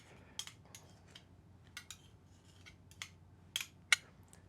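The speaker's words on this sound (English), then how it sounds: "all I'm going to do is just mix that Sriracha right into the mayonnaise" Sriracha being stirred into mayonnaise in a bowl for a banh mi spread, a sequence of quiet, scattered clicks and scrapes of a utensil against the dish, faint and close.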